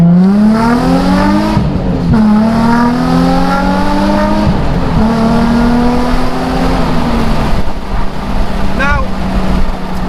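A Nissan 350Z's V6 engine drones loudly and steadily from inside the cabin, its exhaust note rising through the gears with brief dips between shifts.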